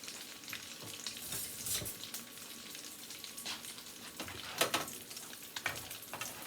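Shrimp egg foo young sizzles in a pan over high heat, a steady crackling fry with occasional louder spatters and scraping as a spoon turns it, no voices.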